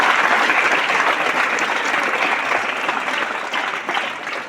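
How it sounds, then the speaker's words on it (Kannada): An audience at a lecture applauds, a dense steady wash of many hands clapping that slowly thins toward the end, with no talk over it. "ನಿಮ್ಗೆ ಚಪ್ಪಾಳೆ ಹೊಡಿಬೇಕು ಅನಿಸ್ಲಿಲ್ಲ?"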